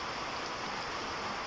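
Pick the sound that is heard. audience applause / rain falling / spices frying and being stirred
rain falling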